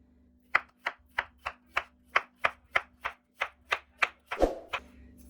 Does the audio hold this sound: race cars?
no